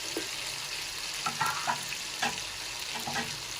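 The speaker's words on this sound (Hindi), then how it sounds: "जो हमने गोश्त उबाला था अपने मसाले के साथ थोड़ा सा गोश्त को फ्राई कर लेंगे।" Boiled mutton frying in masala in a pan, a steady close sizzle with a few brief stirring scrapes and clinks scattered through, no talk.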